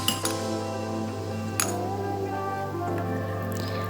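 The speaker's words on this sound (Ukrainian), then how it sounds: "Все перемішуємо до однорідності" Caesar salad dressing with mustard, lemon juice, Worcestershire sauce, garlic and parmesan whisked in a bowl, steady close scraping with bright clinks of metal against the bowl, a couple of sharper taps.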